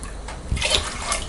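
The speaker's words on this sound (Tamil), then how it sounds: "இதுலேயும் 2 கப் அளவுக்கு தண்ணி விட்டுக்கலாம்" Water is poured into a pot holding soaked urad dal and rice, a brief splashing gush that swells and then trickles, close by.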